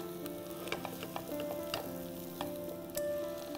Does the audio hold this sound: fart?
no